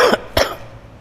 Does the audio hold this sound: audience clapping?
no